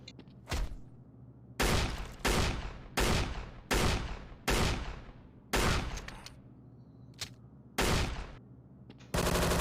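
Pistol shots fired at zombies in a shooting video game, about a dozen sharp reports in an uneven rapid sequence, loud and close with short decaying tails.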